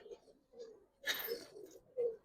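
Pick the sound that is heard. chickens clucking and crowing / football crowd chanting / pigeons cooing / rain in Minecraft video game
pigeons cooing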